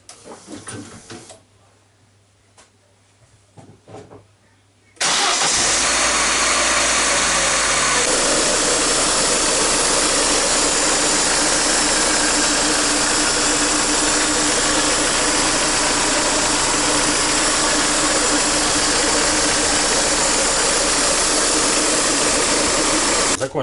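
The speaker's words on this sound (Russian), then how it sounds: "сейчас будем запускать двигатель" A Daewoo Nubira car engine cranks and catches after a valve cover gasket replacement, then runs steadily and loudly close by, with a rattly mechanical clatter over a broad hum and no talk.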